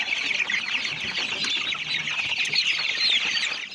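Several heritage Asil-cross chickens clucking continuously nearby, a dense chorus of overlapping clucks with occasional wing flaps, no talking.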